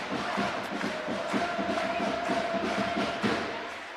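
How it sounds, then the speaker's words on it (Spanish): A handball crowd in a packed arena during the Copa de la Reina cheers its team, a dense, steady roar of voices with rhythmic clapping and thumps throughout. "el público cómo anima, cómo te da las alas"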